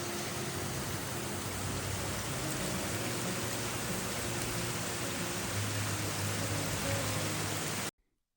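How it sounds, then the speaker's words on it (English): Steady spring rain falls outside, a soft continuous hiss of drops on surfaces that holds evenly and then cuts off abruptly near the end. "obviously because it's raining"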